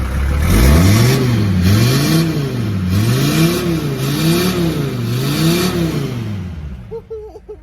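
A Mercedes engine fitted with an eBay turbo kit, running with its intake removed, revs loudly and close up in repeated rising and falling surges for about six seconds, then drops away at the end.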